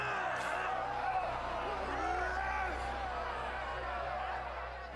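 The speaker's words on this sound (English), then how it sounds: "Your voice is drowned out by the crowd's uproar." An angry crowd of peasants brandishing torches, pitchforks and clubs in the role-playing video game Pathfinder: Kingmaker raises a continuous roar of overlapping shouting voices, fairly loud and sustained.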